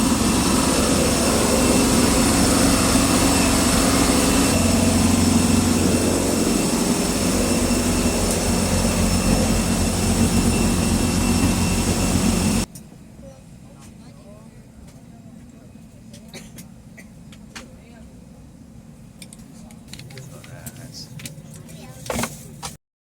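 A Hong Kong Express aircraft produces a loud, steady engine roar with a constant whine that cuts off abruptly midway, leaving a quiet cabin hum with faint clicks.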